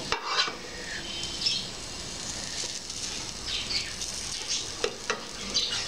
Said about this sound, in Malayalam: കല്ല് ചൂടായിട്ടുണ്ട്, അതിലേക്ക് നമ്മൾ ഒരു ബ്രെഡ് എടുത്ത് വെക്കാം.